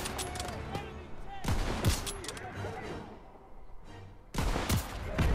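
Anti-aircraft gun fire in the video game Call of Duty: WWII, with heavy bursts of shots in two clusters and a person talking in between.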